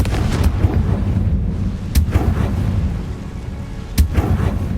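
Blasting spell cast in the video game Hogwarts Legacy, heavy booming blasts at steady two-second intervals over a loud rumbling battle din, no voices.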